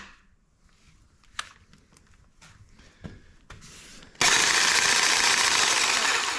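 A Lincoln cordless grease gun running on a Milwaukee battery starts up after a few scattered clicks and taps, then whirs in a loud, steady mechanical drone up close.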